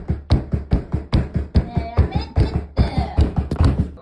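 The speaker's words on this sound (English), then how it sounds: "This is supposedly Protan banging on the bathroom door." Someone bangs repeatedly on a bathroom door, a steady run of heavy, close thuds about three per second, with a raised voice briefly breaking in between the blows.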